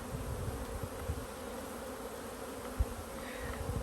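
Honey bees hum in a dense, continuous drone at an open hive box during swarm management, with a few louder passes close by.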